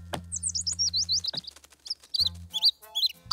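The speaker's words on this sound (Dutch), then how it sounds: "Oh, arm klein vogeltje." A small cartoon bird chirps in quick, high, twittering runs, loud and close, with brief lower cartoon effects and plucked notes breaking in between the tweets.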